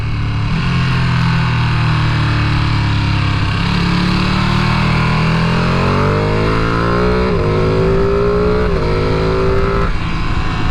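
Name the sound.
Ducati Panigale V2 engine burbling off throttle while downshifting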